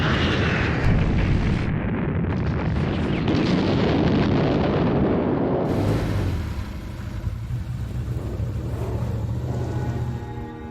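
Aircraft roar and rumbling explosions from the 1940 German bombing of Rotterdam, a dense, loud, continuous wash that thins into a lower droning rumble toward the end.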